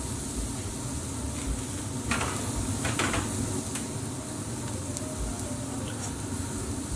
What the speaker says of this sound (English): so I've just got my grill on a medium to high heat. And we'll just simply place our skewers straight on.